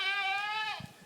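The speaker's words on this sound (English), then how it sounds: "you poor goat." A young goat bleats once in a long, wavering, nasal cry, close and loud, then trails off into quiet farmyard background with faint rustling.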